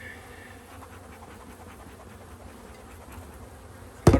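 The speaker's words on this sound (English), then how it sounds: "Free bees, all of them" Honeybees swarming at a hive in spring, a continuous low buzzing drone that holds steady, then ends in a sudden loud close thump or knock, with no voices.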